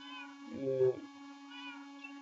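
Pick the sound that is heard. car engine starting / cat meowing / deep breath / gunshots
cat meowing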